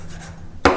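Knife slicing spinach into a chiffonade, a single crisp chop hitting the cutting board at the end of a quiet moment.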